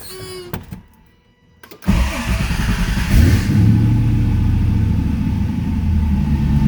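A car engine cranks and catches, then settles into a steady, loud, close idle rumble that continues to the end, with no talking.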